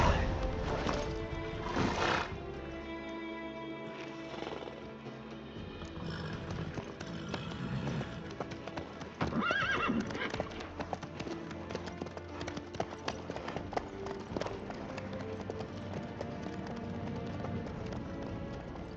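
Horse hooves clip-clopping at a steady trot in the video game The Witcher, set under a layer of background music, moderately loud and continuous.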